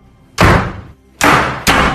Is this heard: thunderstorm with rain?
no